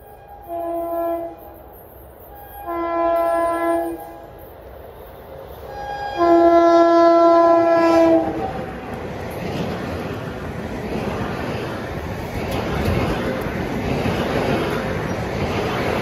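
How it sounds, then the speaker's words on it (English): A Long Island Rail Road commuter train climbing a grade out of Cold Spring Harbor sounds several loud chord horn blasts, then rumbles and rolls steadily past, close by. "climbing the grade, just left Cold Spring Harbor is train 1558, Penn Station to Huntington"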